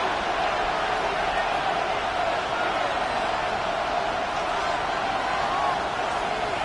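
Crowd roar in a Madden 26 football video game, Bengals versus Colts, a steady dense wash of stadium cheering and noise holding at an even level throughout.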